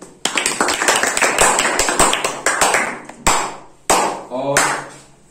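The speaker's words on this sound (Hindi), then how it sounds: "जोरदार तालियां इनके लिए भी" An audience claps at a prize announcement during a school science working-model and essay competition, a loud burst of sharp, closely spaced claps that thins into a few scattered claps and taps.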